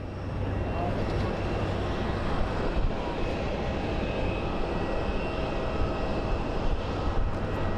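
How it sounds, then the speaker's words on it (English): A Ryanair airliner landing at Phoenix Sky Harbor produces a steady, loud broadband engine roar with a faint whine, sustained throughout with no breaks. A voice is briefly audible at times. "Ryanair landing, yep."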